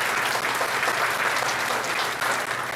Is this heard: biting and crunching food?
no